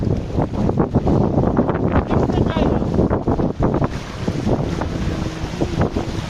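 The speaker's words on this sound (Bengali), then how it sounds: "আর জলগুলো একদম সমুদ্রের ঢেউ পুরোটাই আসছে, এটা পায়ে লাগছে।" Water of Bhatra Beel, a lake in Malda, laps and washes in around someone wading, a loud rushing wash mixed with heavy wind buffeting the microphone, with voices talking over it.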